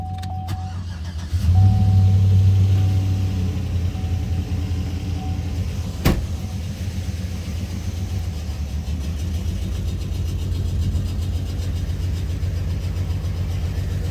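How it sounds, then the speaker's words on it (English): A car engine idles steadily with a low, continuous rumble, preceded by a brief surge as it starts; one sharp click partway through. "The motor and stuff sound like it's just exhaust."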